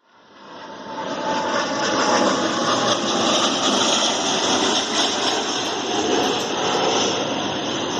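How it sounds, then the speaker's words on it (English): An airplane passes overhead above a backyard vegetable garden, a steady broadband engine roar that swells in the first second and holds loud and unbroken to the end, with no talking. "Airplane."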